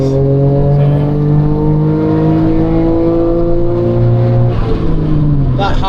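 A modified Suzuki Cappuccino kei car engine revs high under sustained acceleration, its tone climbing and holding steady from inside the cabin, then briefly shifting, with people talking over it.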